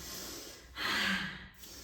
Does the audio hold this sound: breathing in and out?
yes